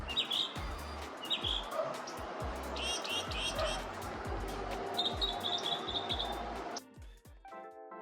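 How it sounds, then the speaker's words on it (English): A mockingbird sings a series of short, bright chirps and whistled phrases at moderate distance over a low background hiss with scattered soft thuds, before music briefly takes over at the end. "male mockingbirds with the largest song repertoires are more attractive to females"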